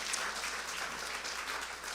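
Audience in a church hall for a homebuyer workshop claps hands steadily for two seconds, a dense even patter of many hands at moderate loudness with no talk over it.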